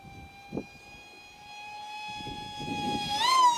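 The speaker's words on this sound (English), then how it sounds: "So the motor seems to be handling this prop okay. You know, it seems to be winding out." A Racerstar BR2406S 2600 kv brushless motor on 3S spinning a Master Airscrew 6x4x3 prop, a steady high whine that climbs sharply near the end, with faint wind buffeting underneath.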